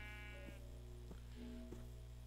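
Sheep in a farming video game bleat twice over a steady low background hum, each call a short wavering cry with a clear tone, moderately loud and with no talking.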